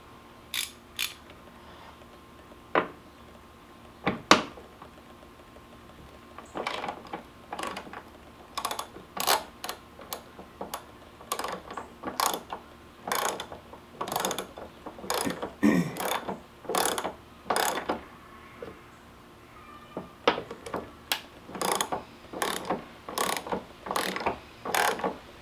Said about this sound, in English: So you take this top hood hinge nut off